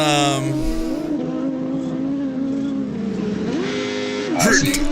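Drift racing cars give sustained, loud engine drone with shifting pitch and a sharp burst of tire squeal near the end, under steady talk.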